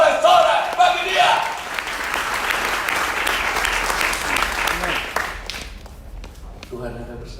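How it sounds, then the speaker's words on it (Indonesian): A church congregation applauds and cheers during a worship service, a sustained burst of clapping and shouts that fades after several seconds, with a voice speaking over the crowd. "Kita berikan sorak-sorak bagi Dia."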